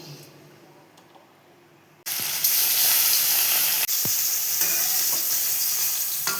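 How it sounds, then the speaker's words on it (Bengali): Two pieces of fish frying in hot oil: quiet at first, then a loud, steady sizzle that bursts in suddenly and carries on close up, with a brief dip partway through. "দেখো 2 পিস মাছটা ভেজে নিচ্ছি।"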